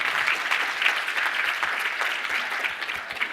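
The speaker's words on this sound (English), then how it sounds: "a little round of applause." Brisk clapping from a conference audience at a business software event, a crowd of many hands applauding steadily at moderate volume with no voices on top.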